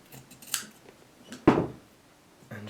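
Scissors trimming quilt fabric during machine quilting, with a few sharp, separate snips: a light cut early, a louder close snip in the middle, and another at the end, with quiet between.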